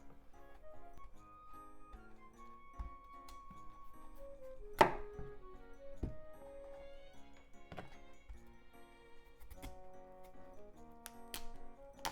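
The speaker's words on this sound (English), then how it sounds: "Let's cut the broccoli." A knife chops broccoli on a board in a home kitchen with a few sparse, soft, close taps over faint background music.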